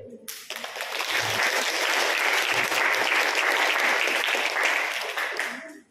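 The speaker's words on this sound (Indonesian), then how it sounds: "Beri aplaus buat beliau." Audience at a seminar on early childhood learning theory breaks into sustained, dense applause lasting several seconds before fading out.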